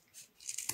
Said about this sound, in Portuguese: E vou cortar estilo um triangulozinho